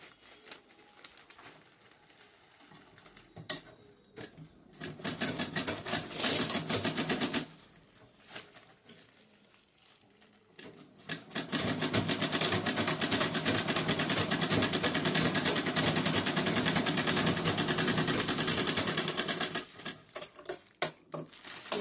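A sewing machine stitches a fabric bag in two runs of rapid mechanical chatter: a short burst of a few seconds, then a longer steady stretch, with quiet handling noises between them.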